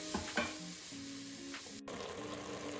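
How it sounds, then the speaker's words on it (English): Ground meat browning in olive oil in a pan for Bolognese sauce, a steady close sizzle with a few scraping stirs of a utensil and a brief break near the end. "now we're adding the ground meat to it, and there might be the need for some extra oil"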